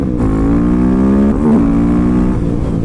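A loud, close engine hums steadily, with pitch rising and a brief throttle blip midway before it settles, like a motorcycle revving up.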